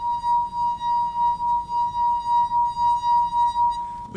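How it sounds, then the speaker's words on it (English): Wet finger circling the rim of a wine glass makes a pure, sustained singing tone that holds steady and loud for several seconds, pulsing gently with each stroke, then stops with a faint clink. "wetting your finger and running it along the rim of the glass"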